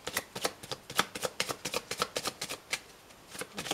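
Tarot cards are shuffled for a reading, a rapid series of crisp, close riffling snaps and flicks in an uneven rhythm with no talk.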